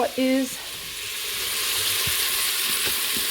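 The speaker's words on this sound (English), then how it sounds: "So just saute that a little bit." Soup ingredients with ground coriander sauté in an Instant Pot, a soft continuous sizzle after a short electronic beep at the start, with a few light stirring knocks.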